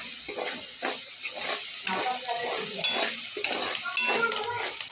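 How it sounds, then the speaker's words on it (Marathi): Coriander being stirred into a cooking dish in a pan, producing steady scraping and stirring strokes over a constant sizzling hiss, close and fairly loud. "त्यानंतर यात कोथिंबीर व्यवस्थित मिक्स करून घेऊ"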